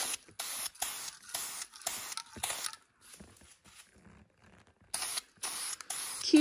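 Spray gun bursts in a shop: several short hissing sprays in an irregular on-off rhythm, a quiet gap in the middle, then more bursts near and fairly loud, with no talking.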